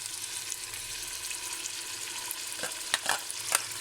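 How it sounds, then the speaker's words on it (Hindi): Ground onions frying over high heat for Lahori chikar cholay, a steady soft sizzle with a few sharp scraping stir strokes near the end, close and fairly quiet with no talk. "ये 5 मिनट तो लगेंगे इसको ब्राउन होने में, क्योंकि ये प्याज जो है ना ग्राइंड किए हुए हैं"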